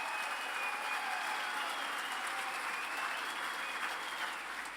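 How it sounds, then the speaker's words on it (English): Steady, dense applause from an audience at the Rangers Player of the Year Awards, sustained and fairly distant, tapering slightly at the end. "Yeah, a round of applause."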